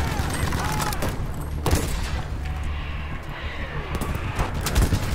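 MG34 machine gun fire in Battlefield V, a dense, continuous rattle of shots over a steady low battlefield rumble, with occasional louder bursts near the end.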